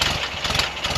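A 1968 Volkswagen camper engine idling after being refitted, a loud, close, steady sputtering hum with a slightly uneven pulse, alone without talk.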